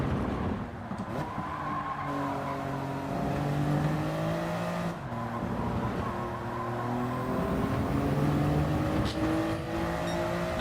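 A Toyota Yaris race car engine in the GT7 video game drones steadily, its pitch rising through gears with short dips at each shift, with no talking.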